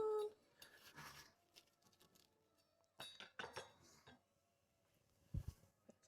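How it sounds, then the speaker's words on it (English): A knife cuts a fresh, still-warm homemade scone for a child's breakfast, giving a few clinks and scrapes of metal against a plate in separate bursts with quiet pauses between. "Let's cut up one of these scones for my son's breakfast."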